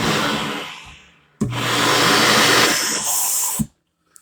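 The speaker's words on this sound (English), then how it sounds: "So you sweep up to it, kick that open, turns on the vacuum" A 2021 Anthem 44W RV's central vacuum at the kick panel whooshes loudly in two bursts, running, dropping off briefly, then starting again before cutting out abruptly.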